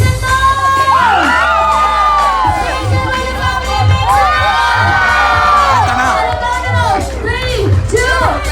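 A crowd at a wedding haldi ceremony in Positano cheers, whoops and shouts loudly and continuously, with excited yells and high-pitched voices overlapping close by.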